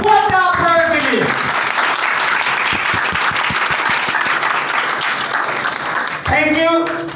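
A standing audience at a motivational seminar claps loudly and continuously, a dense roar of applause filling the room, with a speaker's voice heard at the start and again at the end.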